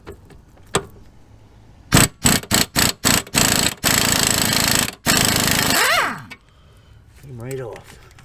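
An Astro Nano half-inch-drive impact wrench hammers a bolt loose on a Mercedes W210 E430 suspension, with several short rattling bursts followed by a long sustained burst, close and loud, and brief speech between.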